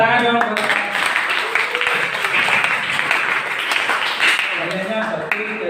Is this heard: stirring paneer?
no